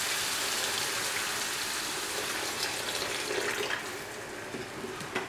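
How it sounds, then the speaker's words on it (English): Water pours steadily into a pot of soya chunk kofta stew, a continuous splashing hiss that fades slightly toward the end, with no talking. "Pour in 3 cups of water."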